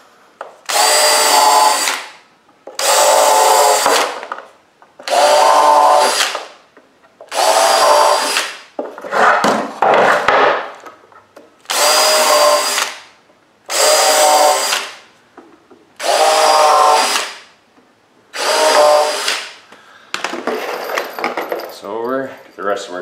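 A power drill drives screws into a wooden fireworks rack, with about nine loud, close whirring bursts, each lasting one to two seconds, separated by short pauses and occasional clatter.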